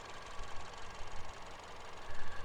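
A 2016 Peugeot 308 1.6-litre turbo petrol inline-four engine idles steadily with a low, even hum and slight rhythmic pulsing, fairly quiet and without voices.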